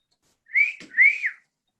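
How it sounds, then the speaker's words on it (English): A pet bird gives a clear two-note wolf whistle, a rising sweep then a rising-falling sweep, loud and close with silence around it. "He likes the wolf whistle."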